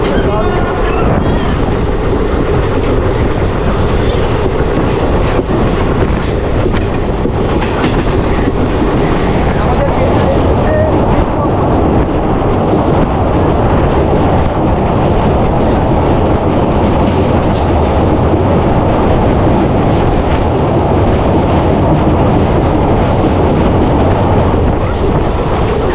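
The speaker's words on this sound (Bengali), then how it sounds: "আমাদের ট্রেন এখন ধীরে ধীরে লাভপুর স্টেশনের দিকে প্রবেশ করছে" A train on the Katwa–Ahmadpur line runs steadily toward Labpur station, with a loud, unbroken rumble and clatter of wheels and carriages heard from on board throughout.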